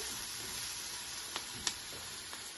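Onions cook in a pan for a cheesesteak sloppy joe, a soft, even sizzle with a couple of brief utensil taps near the end.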